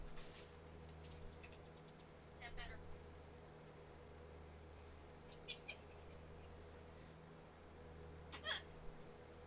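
A cat meows a few times, faint and somewhat distant, over a steady low hum with a voice murmuring in the background.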